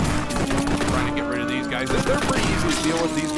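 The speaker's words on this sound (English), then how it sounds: "And I didn't shoot it in time, and I took a hit." Rapid gunfire from the VR shooting game Runner, a dense run of sharp shots over a droning engine-like game tone, loud and close, with a voice speaking over part of it.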